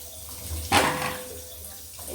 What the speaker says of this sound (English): So you just have to wash them.